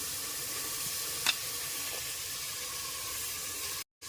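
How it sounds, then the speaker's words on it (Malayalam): Crushed shallots, ginger, garlic, green chillies and onion fry in hot oil, giving a steady, close sizzling hiss throughout with one brief stirring scrape. "എണ്ണ ചൂടാകുമ്പോൾ ചെറിയ ഉള്ളി ഇഞ്ചി വെളുത്തുള്ളി പച്ചമുളക് ഇത്രയും ചതച്ചത് ഇട്ട് കൊടുക്കാം ഇനി സവാള ഇട്ട് കൊടുക്കാം"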